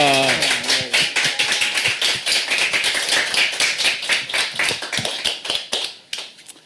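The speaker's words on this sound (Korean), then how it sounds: "우리 박수로 한번 환영하겠습니다" A church audience claps to welcome a pastor before a Thursday Bible lecture, crisp hand claps that start right after a brief voice and run loud and rhythmic, then thin out and fade near the end.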